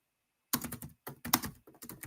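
Keys clatter on a computer keyboard during text entry, with two quick bursts of close, crisp tapping separated by brief pauses after a silent start.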